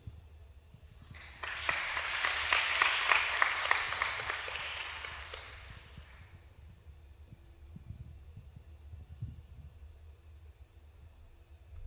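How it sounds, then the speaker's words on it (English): Applause rises at a college coronation ceremony crowning the Mr. and Miss Tougaloo College court, a dense burst of clapping that swells for about five seconds and then fades into quiet room noise. "Please give another round of applause."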